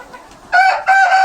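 Chickens and a rooster cluck loudly and close by, in two bursts of harsh, harmonic calls after a quieter start.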